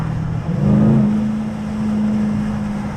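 A 2025 Dodge Durango Hellcat with its 710 HP engine drives by on the road, giving off a deep steady drone that swells and holds with a loud low rumble and no talking.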